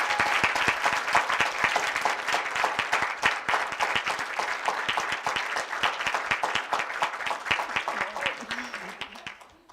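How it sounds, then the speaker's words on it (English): An audience at a STEM panel discussion gives the panelists a round of applause, close and lively clapping that stays strong, then thins and fades toward the end. "Can we get a round of applause for these awesome panelists?"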